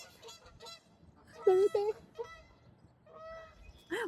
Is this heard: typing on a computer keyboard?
no